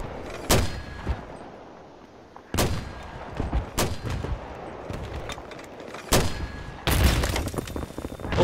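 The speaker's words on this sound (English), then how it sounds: "Oh, careful, they're using mortar on you." Mortar and gunfire in Battlefield 3 on the Noshahr Canals map: several sharp, loud blasts spaced a second or two apart, each with a booming tail, amid scattered smaller shots.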